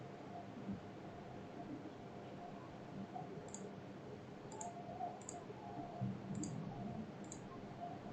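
Mouse clicks while working in Civil 3D software: five sharp, faint clicks spaced about a second apart over a low, steady background hum, with no speech.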